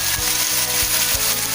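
Sambal frying in oil with soaked dried shrimp, a loud steady sizzle with soft periodic stirring scrapes, close up and without talk.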